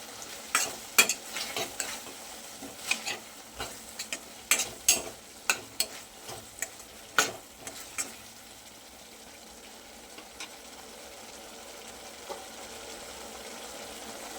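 Okra fries in a spiced yogurt masala oil while a spoon stirs and scrapes the pan in quick clattering strokes, then the stirring stops and a soft steady sizzle continues alone.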